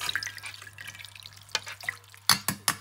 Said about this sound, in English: I'll pour water to remove the dirt